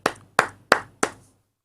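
Four sharp hand claps, evenly spaced about a third of a second apart, each crisp and close with a short ringing tail, alone in an otherwise quiet room.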